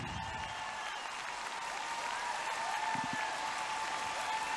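A crowd at a 2014 European Championships ice dance event applauds, a continuous, even wash of clapping that holds steady throughout.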